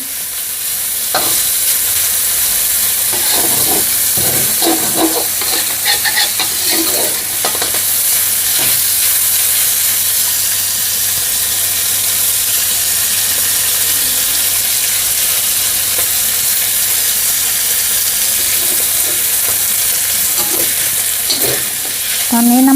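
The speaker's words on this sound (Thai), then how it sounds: "เจียวให้เขามีความหอมสักเล็กน้อยนะคะ ให้มีความเหลืองนะคะ" Oil sizzles hard in a hot wok as mixed vegetables are stir-fried, a constant loud crackle and hiss broken by occasional clanks and scrapes of the spatula, with no voices.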